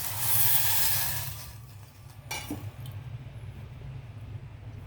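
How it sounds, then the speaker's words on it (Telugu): Water is poured into a hot pan for pumpkin soup and meets it with a loud, hissing splash lasting over a second. It then settles into a quieter, steady low simmer with no talking. "ఇప్పుడు వాటర్ వేసేద్దాం ఇందులో"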